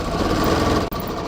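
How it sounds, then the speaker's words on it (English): Sewing machine fitted with a denim needle stitching a jean repair, running as a steady close mechanical whir with one brief stop near the end. "I have a denim needle in my machine"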